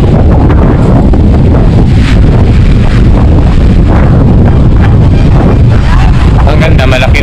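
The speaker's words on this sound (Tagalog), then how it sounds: "Yan, mahangin ngayon." Loud, continuous wind blasts the microphone on a beach resort shore at Aureo, La Union, with heavy rumbling gusts, nearly drowning out faint voices and the distant wash of surf.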